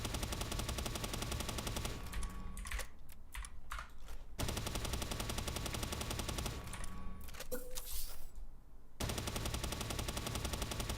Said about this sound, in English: time to switch to the assault rifle for a little bit